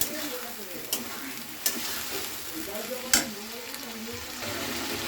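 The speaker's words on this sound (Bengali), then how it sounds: "এটা দিয়ে খুব ভালো করে কষতে হবে আলুটা" Potatoes with spices and a splash of water are sautéed in a pan, giving a faint, steady sizzle broken by a few sharp scrapes and knocks of the spatula.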